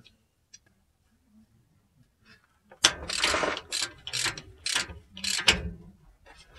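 A drain or fill plug on a 2008 Duramax LMM differential being tightened by hand with a ratchet, giving a near, loud run of quick clicking bursts after a few quiet taps.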